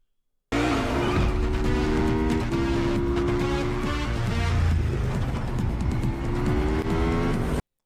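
A cartoon racing car tears through city streets with a loud, continuous engine roar, squealing tires and shifting revs, close and energetic throughout.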